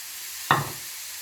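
Green chili, chopped tomato and coriander for chicken momo filling hitting a hot pan, a sudden sizzle burst that quickly fades into a steady soft frying hiss.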